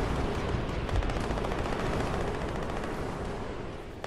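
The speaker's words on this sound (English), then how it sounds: "I hear so much shooting just from all angles." Dense, continuous gunfire from the Fortnite video game fills the clip, rapid overlapping shots and bursts coming from all directions, loud and constant with no talking.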